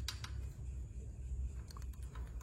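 Faint, quick clicking from a worn rocker arm shaft with excess play in a Yamaha Mio M3 scooter engine, light irregular ticks over a low engine rumble.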